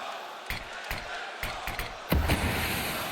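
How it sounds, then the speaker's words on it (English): Arena crowd roaring at the StarLadder Budapest Major 2025 Counter-Strike quarterfinal between MOUZ and FaZe, a dense wash of noise punctuated by rhythmic thumps and swelling louder toward the end. "As the crowd in Budapest are chanting to send you home."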